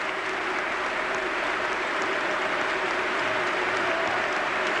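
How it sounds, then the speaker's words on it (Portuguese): Stadium crowd at a 2003 Porto versus Barcelona football match applauding substituted players, a steady, dense wash of distant clapping and crowd noise that holds evenly throughout without pauses. "Muitos aplausos para Secretário e também para Derlei."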